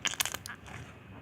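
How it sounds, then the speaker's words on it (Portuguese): Gray slime squeezed and worked by hand, giving a quick run of sharp little pops and crackles at close range, several bursts packed into the first half second before settling into softer squishing. "Pra quem não sabe, bubble pop é esse barulhinho aqui"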